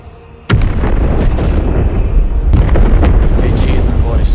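A planet explodes in an animated Dragon Ball battle: a sudden heavy blast erupts into a sustained, roaring rumble, and a second sharp crack follows midway, all loud and close, with faint bursts flickering toward the end.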